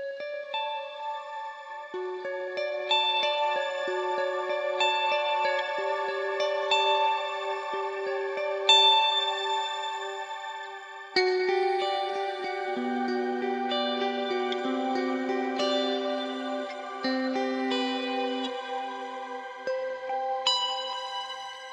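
Clean electric guitar notes through a Neural DSP Archetype ambient preset ring out in a slow melodic line, each blooming into a lush, shimmering reverb wash that lingers and overlaps.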